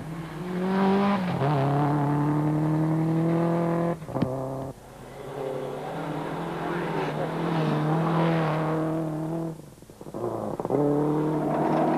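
Subaru Impreza WRX rally car pushing hard on a Tour Natal rally stage, its engine revving loudly through repeated rises and gear changes, with a brief lift-off around midway and another near the end.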